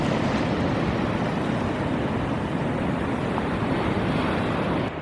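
Ocean surf at Rialto Beach in Olympic National Park at low tide near dawn, a continuous broad roar of breaking waves with wind rushing over the microphone, steady and loud with no voices.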